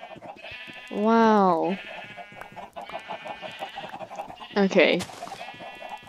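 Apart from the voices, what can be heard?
sheep, llamas and chickens in video game Minecraft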